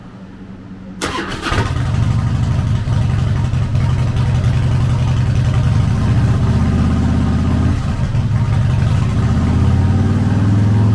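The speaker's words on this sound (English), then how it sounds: "Powered by an 88 cubic inch V-twin motor" A 2005 Harley-Davidson Night Train with an 88 cubic inch V-twin cranks over from near silence, catches and settles into a loud, steady, lumpy idle that carries on alone for the rest of the clip.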